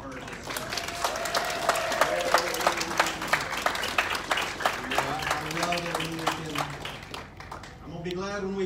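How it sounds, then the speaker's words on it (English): A church congregation claps its hands in praise after morning service music. Sustained applause fills the room for several seconds, with voices mixed in, and fades toward the end. "Let's praise God by clapping our hands again for the beautiful music we've heard this morning."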